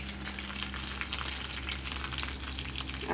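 Garlic and curry leaves sizzle steadily in hot tempering oil for dal tadka, a constant close crackle with light stirring and no voices.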